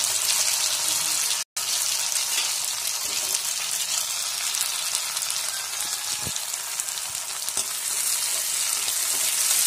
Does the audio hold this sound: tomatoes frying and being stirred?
yes